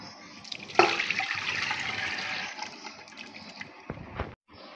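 Soaked lentil water is poured into a pressure cooker for shami kebab preparation, a steady splashing gush lasting a few seconds close by, followed by a few softer trickles and knocks.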